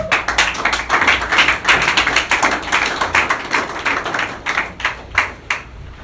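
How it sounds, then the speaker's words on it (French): Congregation in a church clapping in a quick, uneven rhythm of many hands, loud and sustained with a few sharper claps near the end and no clear cheering voices. "Est-ce qu'on peut acclamer très fort ici?"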